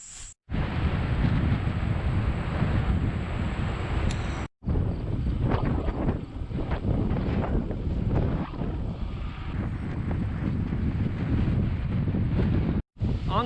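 Strong wind buffets the microphone on a gravel road near Bainbridge, Ohio, a loud, steady rumbling roar that runs almost unbroken, with two brief dropouts.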